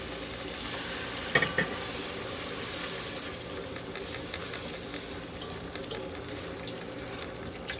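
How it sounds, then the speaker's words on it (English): Half and half is whisked into a pot of chicken gnocchi soup, with a steady bubbling simmer and a soft rhythmic scrape of the whisk, plus one brief clink early on. No one talks. "now I'm going to whisk in the half and half, and I'm going to start slowly"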